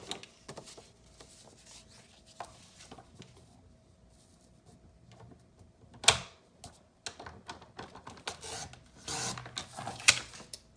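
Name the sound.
cutting diagonal cuts for a hot chocolate pouch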